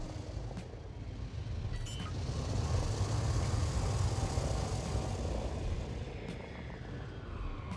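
A spaceship landing in Elite Dangerous, with a loud, sustained engine roar and hiss and a few short mechanical clicks as the landing gear deploys.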